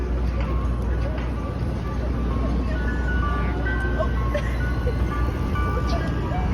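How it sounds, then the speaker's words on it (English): Ice cream truck on a New York City street playing its jingle, a thin tinkling melody heard over steady traffic rumble and city noise, with voices nearby. "that ice cream truck's playing"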